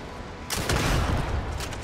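A sudden burst of gunfire breaks in halfway through Starfield gameplay, a short cluster of loud, close shots, three rounds, over a constant noisy game background.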